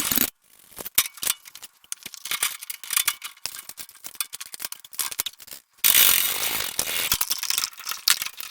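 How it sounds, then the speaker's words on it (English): Ratchet wrench clicking in quick bursts while tightening lug nuts on a Toyota Tacoma wheel, with rapid close clatter and short pauses, then a steadier loud stretch of mechanical rattling near the end; no talking. "And don't forget to tighten your lug nuts."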